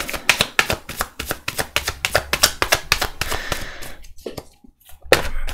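Tarot cards shuffled, flipped and laid down on a table in quick crisp bursts of slaps and flutters, close and fairly loud, easing into a pause before one last snap.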